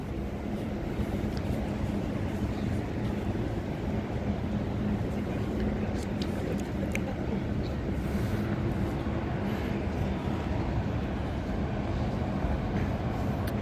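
Trains rumble at Shinjuku Station in Tokyo, a broad, steady roar of rolling stock with scattered squeals and clanks mixed into city ambience, heard from a platform-side vantage.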